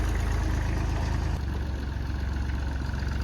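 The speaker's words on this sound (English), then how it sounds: "The tractor we are going to use is a 1941 Ford Ferguson with a Perkins P3 conversion" A 1941 Ford Ferguson tractor with a Perkins P3 diesel conversion runs at a steady idle, a loud, continuous close-up chug whose tone shifts slightly partway through.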